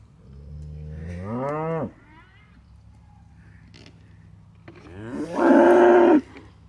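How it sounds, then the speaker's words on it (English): Two drawn-out moos from cattle by a pasture fence where a bull stands near the neighbor's heifers: a rising bellow first, then a louder, harsher call after a quiet pause. "Old Samson's standing over there by the fence, keeping the neighbor's heifers company"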